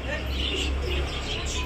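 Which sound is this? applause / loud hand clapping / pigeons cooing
pigeons cooing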